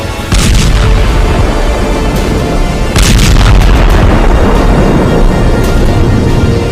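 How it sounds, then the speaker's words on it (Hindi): Hezbollah rockets exploding over Haifa: a continuous loud rumble of blasts and booming impacts, with heavier bursts near the start and around the middle, and no voices. "हिजबुल्लाह के रॉकेट धमाके हाइफा में हाहाकार मचा रहे हैं"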